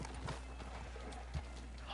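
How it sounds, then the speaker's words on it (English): Horse hooves galloping in Red Dead Redemption 2, a muffled rhythmic clip-clop under a steady low rumble of game ambience, moderately close. "My horse will catch up and I'll jump onto it."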